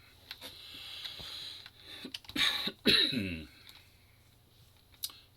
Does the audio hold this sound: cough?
yes